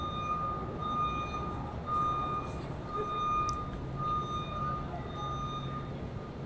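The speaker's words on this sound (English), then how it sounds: "I still don't understand that sound. Backing up." A truck's reversing alarm beeps repeatedly at night, a regular series of high, evenly spaced tones heard at a moderate distance over faint traffic rumble.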